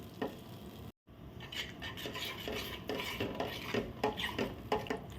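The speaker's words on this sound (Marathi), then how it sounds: "ढवळून तीन चार वाफा आपल्याला त्याला काढायची पीठ ते पटकन शिजायला सुरुवात होते त्यामुळे असं ढवळतच आपल्याला राहावं लागतं" A spoon scrapes and stirs thick gram flour batter for pithla in a pan over a low flame, with repeated close strokes against the metal and a soft sizzle underneath, broken only by a brief gap.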